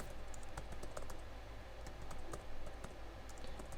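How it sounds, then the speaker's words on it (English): Rapid typing on a computer keyboard, a steady run of light clicking keystrokes close to the microphone over a low background hum, with no talking. "in this case I'm gonna type it"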